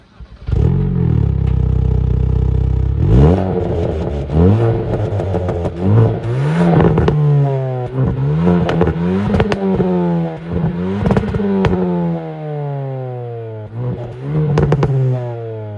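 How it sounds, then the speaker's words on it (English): A 2024 Hyundai i20N hot hatch starts up loudly and is revved repeatedly, its engine note climbing and falling in sharp blips, with crackling exhaust pops and bangs between revs, close and alone. "the fact they're able to get away with making the exhaust pop and bang like that from factory is still very, very impressive"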